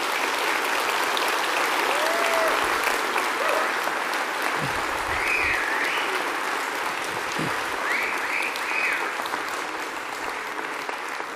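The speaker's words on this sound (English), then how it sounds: "Go ahead, give them a round of applause" Sustained audience applause at an Alberta United Conservative Party leadership debate, greeting the candidates on stage; dense, steady clapping fills the hall for about eleven seconds with a few faint voices mixed in.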